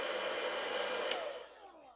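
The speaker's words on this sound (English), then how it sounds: "Turn off the hairdryer." A hair dryer blows with a steady, loud whooshing roar, then winds down as it is switched off near the end.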